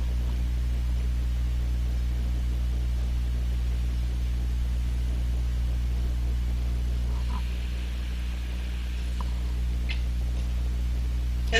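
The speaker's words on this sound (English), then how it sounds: "Let's listen to the hum of the computer again" A computer's steady low electrical hum drones on with faint ticks and static over it, quiet and continuous with no voices.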